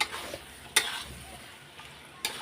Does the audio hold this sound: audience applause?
no